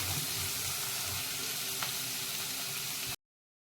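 Tomatoes frying in oil in a pan for a street-style panipuri chaat, a steady close sizzle and crackle running continuously for about three seconds before cutting off abruptly.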